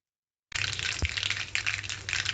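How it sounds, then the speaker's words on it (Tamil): Mustard and cumin seeds crackle and pop in hot oil as a tempering is fried in a pan for a bottle gourd koottu. The dense, close sizzle begins suddenly and carries on without talk. "கடுகு ஜீரகம் எல்லாமே நல்லா பொரிஞ்சிருச்சு."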